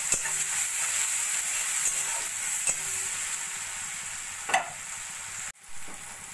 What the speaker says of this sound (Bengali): দিয়ে একটু ভাজা ভাজা করে নেব পেঁয়াজটা।